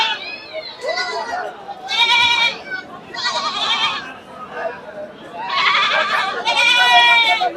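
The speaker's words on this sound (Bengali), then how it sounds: "যেগুলো হচ্ছে ক্রস ছাগল" Crossbred goats at a livestock market give repeated loud, near bleats in several bursts, with voices and crowd chatter underneath.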